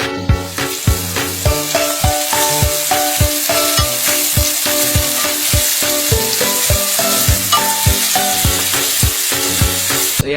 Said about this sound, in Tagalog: Igigisa natin dito sa sardines.